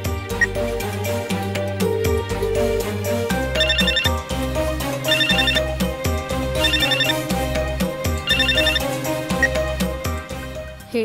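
A phone's musical ringtone plays on an outgoing call, a looping electronic melody that repeats its phrase several times, near and clear with no talking.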